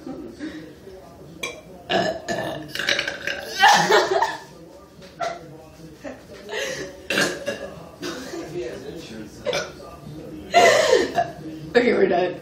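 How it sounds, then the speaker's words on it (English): Several people belch repeatedly in a soda-fueled burping contest, loud close burps scattered irregularly among laughter, chuckles and chatter. "We've been burping for 5 minutes straight."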